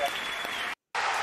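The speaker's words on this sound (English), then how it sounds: "You guys get a big applause." A burst of loud applause from a crowd, steady clapping that cuts off abruptly, drops to silence, then resumes.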